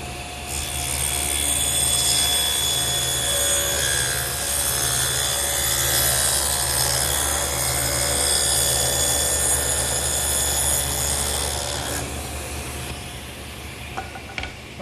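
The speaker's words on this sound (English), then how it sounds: "I'm going to take these two pieces here and run a groove all the way up, stopping about 1/4 of an inch from the edge" A power tool routs a groove along wood pieces for a blanket chest top, a loud continuous whining cut running steadily for about twelve seconds before stopping, then a few faint knocks.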